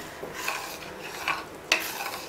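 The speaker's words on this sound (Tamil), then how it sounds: "கொஞ்சம் கொஞ்சமா ரவையை போட்டு கிளறி விட்டுக்கலாங்க" Semolina stirred into boiling water in a pan over a medium flame for papaya kesari, giving a soft scraping swish with light metallic clinks of the spoon against the pan, close and brief.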